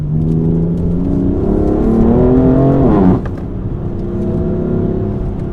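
A 431 hp BMW M4 F82 accelerates hard, its engine note rising steadily to a peak before a sharp drop at the shift, then droning on at lower revs, loud and close from inside the cabin.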